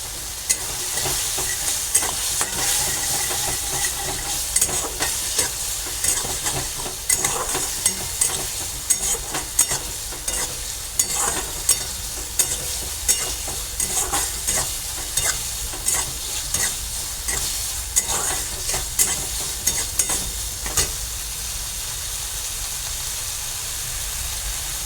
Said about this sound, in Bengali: আর এই তেলটা এর মধ্যে দিয়ে দিলাম।